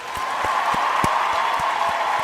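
Steady applause from a crowd, a dense wash of clapping holding at an even level throughout.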